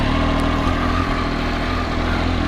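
A 2020 Triumph Daytona 765 sport motorcycle idles steadily after a cold start, a loud, close, even engine drone with no talking over it.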